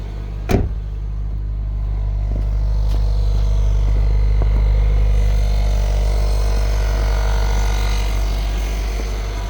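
A stock 2001 Subaru with an automatic gearbox and about-to-be-aired tyres idles and rolls forward, a steady low engine rumble with a faint rise, following a sharp knock near the start and no voices.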